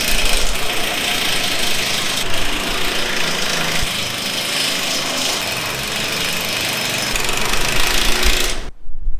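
A loud power tool runs steadily in a close, continuous rattling roar while fastening the six bolts on top of a spreader being readied for gypsum, then cuts off abruptly at the end.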